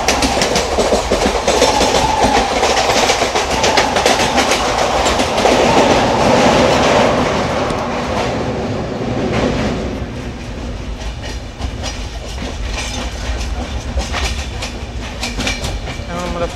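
The 12378 Padatik Express running on rails past Bidhannagar Road station, with a loud, close, continuous rumble and clickety-clack of wheels that eases a little in the second half.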